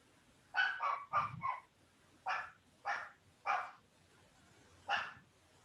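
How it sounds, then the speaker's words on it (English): A dog barks in a quick burst of four close yaps, then three spaced single barks and one more, mid-distance and fairly clear over a quiet room background. "I hear the barking"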